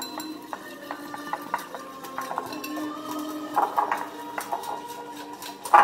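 Metal utensils clink and scrape against a bowl while curd, yogurt and spices are mixed into a marinade for tandoori pomfret, with a steady run of light taps and a louder clatter near the end, close and without talk.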